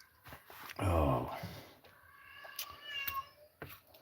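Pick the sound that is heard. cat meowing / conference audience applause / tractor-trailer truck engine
cat meowing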